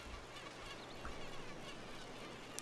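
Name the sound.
mosquitoes buzzing in the video game The Sims 3 Island Paradise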